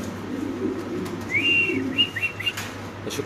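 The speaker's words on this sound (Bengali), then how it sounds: "অনেক কবুতর আছে" Birds at a pigeon market, with soft low cooing and a few brief higher chirps standing over a steady murmur of background noise and hum.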